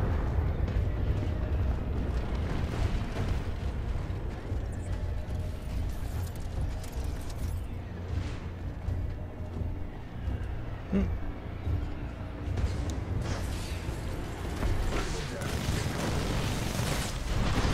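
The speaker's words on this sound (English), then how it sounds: "Those mortar titans are really giving our harvester some damage." Mortar titans shelling a harvester in Titanfall 2 produce a steady barrage of dull booms and rumbling impacts beneath continuous battle noise, with no pauses across the whole stretch.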